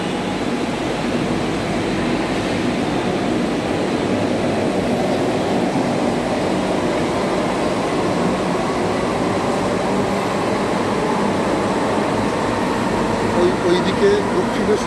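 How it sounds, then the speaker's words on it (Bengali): A Kolkata Yellow Line metro train to Dakshineswar pulling out of Noapara station. It makes a continuous broad rumble and whoosh that fills the platform, with people talking over it. "ওইদিকে দক্ষিণেশ্বরের ট্রেন ওই পাশ দিয়ে বেরিয়ে যাচ্ছে"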